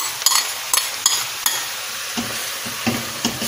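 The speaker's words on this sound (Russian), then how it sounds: "Теперь сюда выкладываем наше мясо." Meat tipped into vegetables frying in a pan for plov brings sharp utensil clicks and scrapes over a close, steady sizzle, followed by heavier soft thuds.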